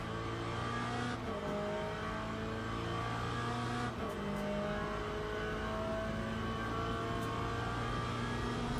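BMW race car in Le Mans Ultimate at Fuji, its engine droning steadily and loud with shifting harmonic tones as it revs and changes gear, other cars audible around it, no talking.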